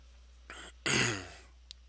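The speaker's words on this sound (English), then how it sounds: "Apologize again for the throat clearing and coughing." A man clears his throat twice, a short rasp followed by a louder, longer harsh hack, close and alone in a quiet room, then a tiny click.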